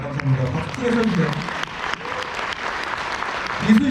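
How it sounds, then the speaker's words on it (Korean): A seminar audience in a resort hall gives sustained applause, with dense clapping running throughout as a speaker's voice comes through on top of it. "감사합니다. 박수 크게 쳐주세요."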